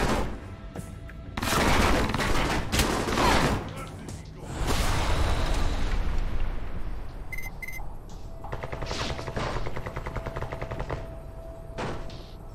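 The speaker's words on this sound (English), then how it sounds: "somebody firing a heavy gun at him." Heavy gunfire in the video game Alpha Protocol, several loud bursts of rapid shots with booming impacts, separated by short gaps, and a thinner burst toward the end.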